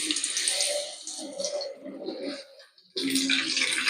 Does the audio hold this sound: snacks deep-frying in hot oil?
yes